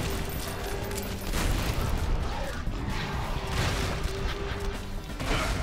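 Explosives detonate in the Painkiller: Reloverdose nuclear plant level, a dense, continuous roar of blasts and crashing debris filling the whole stretch with a steady loud rumble.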